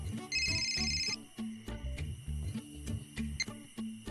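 A telephone rings with a repeating electronic ringtone melody in a household scene, the short bright tones cycling at moderate volume with no one speaking.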